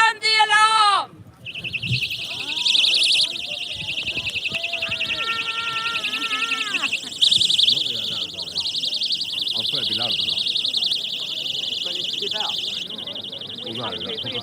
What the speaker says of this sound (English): Ladies, if you have an alarm, sound the alarm!